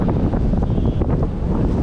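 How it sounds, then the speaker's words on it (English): Steady wind buffets the microphone in a constant low rumble, with a faint hiss over it and no pauses for the whole stretch. "Just now when I turned the camera on, it's windy."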